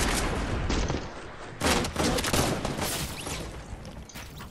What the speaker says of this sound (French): C'est le lance-roquette.